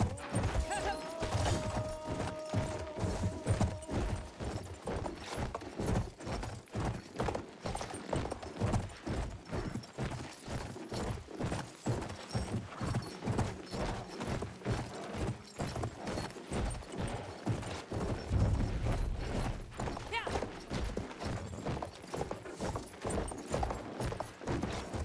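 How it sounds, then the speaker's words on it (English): Horses galloping in the Battlefield 1 video game, a steady fast stream of hoof clip-clops with rattling tack and mechanical clatter, continuous and busy throughout without speech. "The Bedouin treasured their horses, and in return, those animals granted their riders unparalleled speed and mobility."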